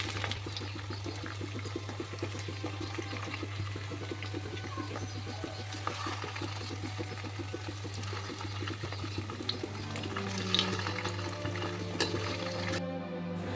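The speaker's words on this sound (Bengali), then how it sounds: "আমি এই সুজির কালোজামগুলো ভেজে নেব" Semolina kalojam sweets frying in medium-hot oil, a soft continuous sizzle with faint bubbling and occasional stirring clinks, under a steady low hum, fairly quiet and close, no talk.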